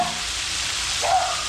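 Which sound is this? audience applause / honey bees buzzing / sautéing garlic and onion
sautéing garlic and onion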